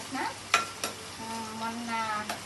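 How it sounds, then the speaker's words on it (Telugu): Rice fries with chicken, egg and raw prawns in a pan, a low sizzle broken by a few sharp spatula scrapes and knocks, with a faint tonal hum in the background. "ఎగ్గు, పచ్చిరొయ్యలు రెడీగా పెట్టుకున్నా. ఫ్రైడ్ రైస్ చేస్తున్నా."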